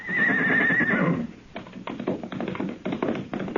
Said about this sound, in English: His horse saw us and ran.